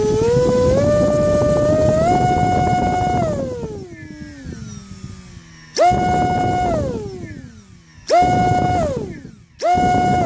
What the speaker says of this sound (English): that's the smoothest sound that this motor gives